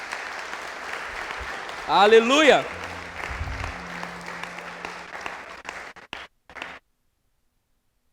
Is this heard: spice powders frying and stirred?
no